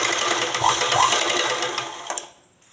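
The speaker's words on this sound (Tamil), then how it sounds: "இதில் ஒரு தையல் போட்டு விட்டுக்கலாம்" Sewing machine stitching the neckline of a nighty, a steady close mechanical whirr running for about two seconds before slowing and stopping with a couple of clicks.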